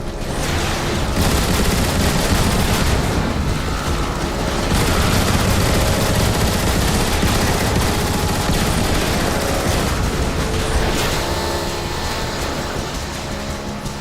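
Omega Supreme's heavy weapon fire in the Transformers: War for Cybertron video game, a loud, dense and continuous barrage of rapid gunfire and blasts with a roaring mechanical rumble underneath that carries on for the whole stretch.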